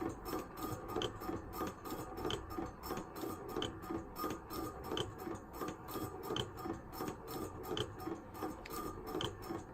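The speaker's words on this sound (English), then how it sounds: "the compressor will eventually stop, and then I'll bleed a little air off, and it'll kick back in" A CROSSFIRE instrument air compressor runs slowly in intermittent mode, giving a quiet, steady, rhythmic mechanical chugging with faint rasping pulses throughout and no talking.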